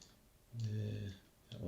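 A mouse button clicks once during an alt-click selection in 3D modelling software while cleaning up an exterior house model. It is a short, fairly close click, and a soft voice and some low hum surround it.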